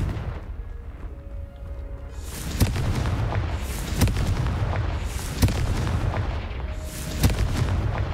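Confringo fire spells blasting in the Hogwarts Legacy video game, four sharp booming explosions landing about every second and a half over a steady rumbling background, each burst loud and close.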